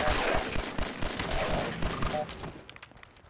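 Laser pistol shots in the video game Fallout 4: a quick run of sharp, rapid zaps crackles close by, thinning out toward the end as the firing stops.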